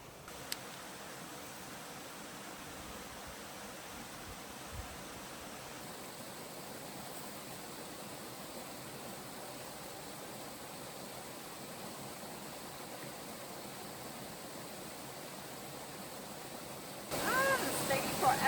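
A steady broadband rush of flowing water fills the air continuously, like a creek running nearby, with a brief louder surge near the end.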